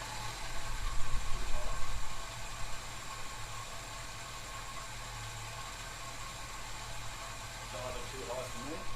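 A Holden HK Premier wagon engine idles low and steady, a continuous rumble with a slightly louder stretch early on, then an even drone to the end.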